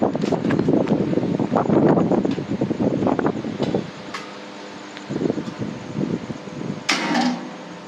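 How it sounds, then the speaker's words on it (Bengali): Strong wind roars and buffets the microphone in rough gusts, easing briefly midway before picking up again. "বাতাস হচ্ছে, বেশ পরিমাণে বাতাস"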